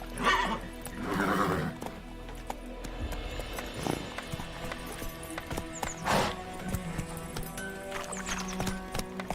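Roach, Geralt's horse in The Witcher 3, neighs loudly at the start and again mid-way while hooves clip-clop in a steady gallop beneath, with quieter whinnies and ambient game sound throughout.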